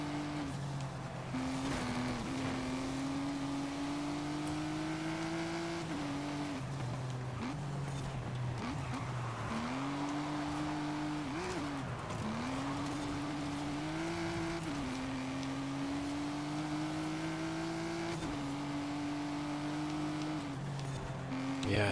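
A tuned car in Forza Horizon 5 drives along, its engine droning steadily with rising revs and gear shifts, a continuous game engine note with faint background sounds and no clear talk.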